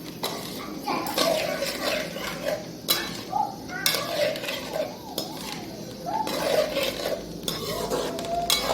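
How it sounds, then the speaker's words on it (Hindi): Potatoes with curry leaves frying in a pan, stirred in repeated scraping strokes of a spoon against metal over a continuous sizzle, close and loud, with a voice faintly audible underneath. "आलू को इस तरह से भूनेंगे इसमें"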